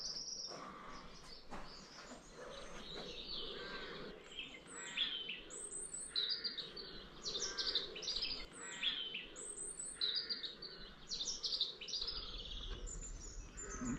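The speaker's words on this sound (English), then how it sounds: "It's wonderful to hear the bird song outside." Birds singing outdoors around a historic Cotswold village church in Eastleach, with many overlapping chirps and trills over steady insect-like background buzz, moderately distant and continuous throughout.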